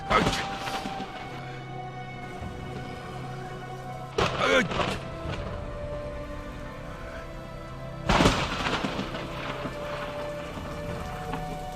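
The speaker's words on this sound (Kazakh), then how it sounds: "Мына жауындар." Steady rain hisses through an animated Kazakh cartoon scene, broken by two loud thunder crashes, with voices and background sound mixed in.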